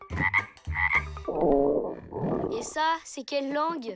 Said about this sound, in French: Ça, c'est mon ventre, j'ai faim.